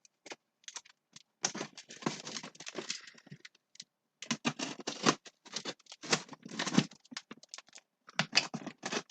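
A taped cardboard box is cut open by hand with a blade, heard as bursts of close scraping, tearing and crackling cardboard with short pauses between strokes, no one talking.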